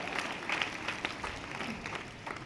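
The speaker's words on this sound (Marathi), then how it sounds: "यासाठी सगळ्यांनी जोरदार टाळ्या वाजवायला पाहिजे" An audience at a school felicitation for scholarship students claps in a sustained round of moderate applause, a dense patter of many hands heard from a short distance.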